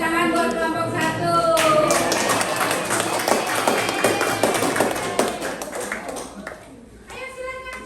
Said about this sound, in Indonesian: Ayo tepuk tangan buat kelompok 1